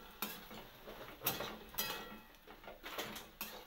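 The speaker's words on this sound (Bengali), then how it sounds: "নেড়ে চেড়ে নেবো" Eggplant pieces stirred in a cooking pot after salting, a soft sizzle under a series of light scraping and clinking spatula strokes, fairly quiet and close.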